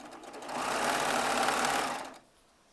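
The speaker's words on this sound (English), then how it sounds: "we're going to get all 40 of these strips sewn together lengthwise" Baby Lock serger stitching jelly roll fabric strips together lengthwise, a steady whirring run that swells in, holds for about a second and a half, then cuts off, with no talking.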